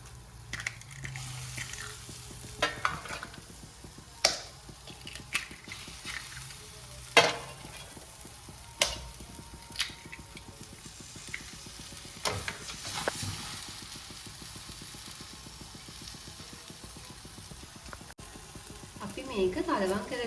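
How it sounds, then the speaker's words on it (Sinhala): Eggs frying with onion and green chillies in a pan give a steady background sizzle, broken by occasional scrapes and taps of a spoon against the pan, moderately close with no speech. "අපි මෙහෙමම අපේ බිත්තර ටික බැදෙන්න දෙන්න ඕන"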